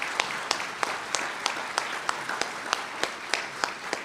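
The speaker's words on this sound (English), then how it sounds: "how about a round of applause for our panelists?" An audience claps for debate panelists at a Virginia congressional candidates debate, a steady even round of applause with sharp rhythmic claps standing out near the microphone.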